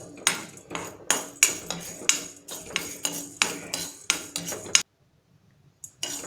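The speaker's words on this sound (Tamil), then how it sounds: "பேனில் நம்ம ஒரு டேபிள் ஸ்பூன் வெந்தயம் எடுத்து வச்சுருந்தோம்ல, அதை நான் இப்போ ட்ரையாக வறுத்து எடுத்துக்க போகிறேன்" Dry fenugreek seeds are stirred with a metal spoon in a pan, giving rapid rhythmic scraping clinks close by, then a pause and a final tap.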